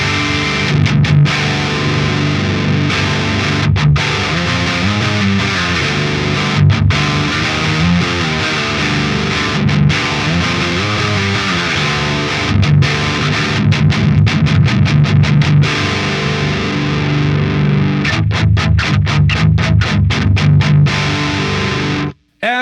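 An electric guitar runs through a modded Marshall JCM800 amp at maximum gain, playing loud, heavily distorted metal riffs with chugging palm-muted bursts and sustained chords for over twenty seconds before cutting off abruptly.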